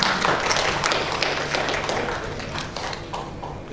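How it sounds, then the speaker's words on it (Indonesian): An audience at a cultural exhibition book discussion bursts into applause, many hands clapping densely and fairly loudly, with some individual claps standing out, gradually easing off. "Kita beri tepuk tangan."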